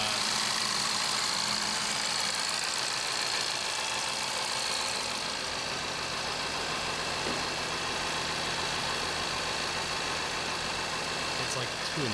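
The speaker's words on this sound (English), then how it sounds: "she started" A Jaguar F-Type (X152) idles steadily just after being started, a continuous low engine hum with some vibration that stays even and fairly quiet throughout.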